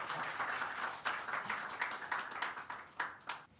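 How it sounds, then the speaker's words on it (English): Audience at a cultural apprenticeship appreciation event gives a round of applause, fairly faint and somewhat distant, with individual claps and swells audible as it tapers off. "Let's give a round of applause to Allison."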